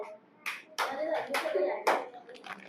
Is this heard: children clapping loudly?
yes